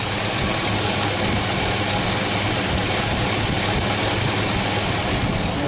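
A GMC Yukon engine with a misfire runs at raised RPM, giving a steady, loud, dense mechanical drone with continuous vibration that holds level throughout, with no talking.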